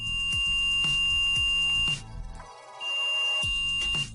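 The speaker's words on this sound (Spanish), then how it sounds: "Se emite un sonido bip, un leve pitido, como por ejemplo tocando las dos terminales." A multimeter in continuity mode gives a steady electronic beep as its two test leads touch, a near, clear tone that sounds for about two seconds, breaks off, then returns for another stretch alongside some clicking contact noises.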